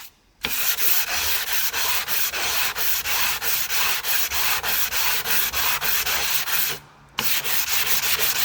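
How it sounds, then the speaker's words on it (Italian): Coarse 120-grit sandpaper backed by a wooden block rubbed over a metal blade, producing loud, close, rhythmic back-and-forth rasping strokes that continue steadily, broken by brief pauses at the start and near the end. "procurarvi un pezzo di legno che faccia da diciamo supporto per levigare in piano la superficie"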